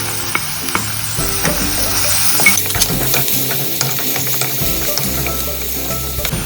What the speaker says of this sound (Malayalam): ഇനി നമുക്ക് അരിഞ്ഞു വെച്ചിരിക്കുന്ന ഈ വെളുത്തുള്ളിയും ഇഞ്ചിയും പച്ചമുളകും കൂടി ചേർത്ത് കൊടുക്കാം